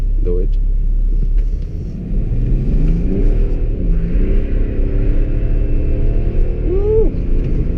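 A tuned 2005 BMW 535d with about 370 hp accelerates hard through city streets, its engine rumbling and rising in pitch through gear changes, with a sharp upward rev near the end under a loud, close cabin drone.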